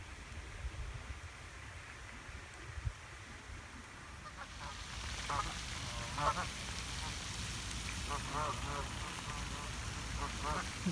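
Ducks and geese honk and quack repeatedly near fountains in a garden by a bridge, a series of moderately loud calls over steady water-like background noise in the second half.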